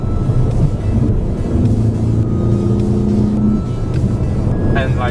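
An Alfa Romeo GT being driven hard, its engine rumbling and rising under acceleration against a steady cabin roar, with a voice present.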